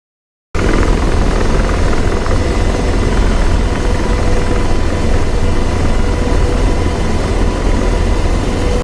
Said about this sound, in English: When the helicopter begins to slow down, begin powering down